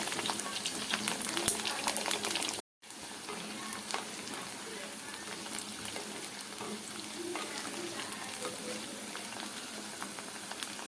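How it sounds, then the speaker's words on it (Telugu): Drumstick pieces fry in hot oil for a pickle, a quiet continuous sizzle and bubbling with a brief cutout near the start. "మునక్కాయలు ఎక్కువసేపు వేయించకూడదండి ఒక టూ టూ మినిట్స్ వేయించుకోండి"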